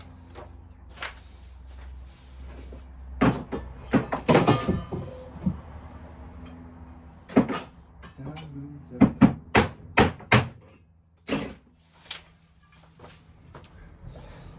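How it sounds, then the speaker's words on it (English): Several sharp hammer strikes knocking out a metal consumer unit knockout, loud and close, in uneven bursts with pauses between, followed by a quick run of rapid knocks. "I got hit that with a hammer. It popped it through."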